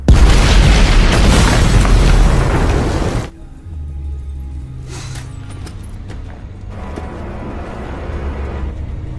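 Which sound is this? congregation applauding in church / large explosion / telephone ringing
large explosion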